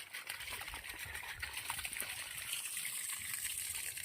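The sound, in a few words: water running from a tap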